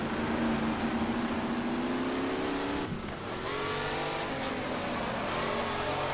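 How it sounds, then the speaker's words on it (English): A V8 race car engine revs hard in the GT Legends racing game, loud and close with a steady droning roar that briefly drops off as the throttle lifts, then climbs again. "Remember that this was a V8 engine"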